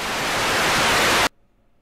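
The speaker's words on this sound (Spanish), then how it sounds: "Vamos a ver si el ruido de la estática cambió o no." Loud, dense broadband static hiss from the Eggs for Bart video game holds steady and then cuts off abruptly, leaving near silence.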